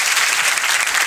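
Students in a coaching class for Agniveer recruitment clap together for a classmate's test score, a brief, loud, close burst of dense clapping with no talking.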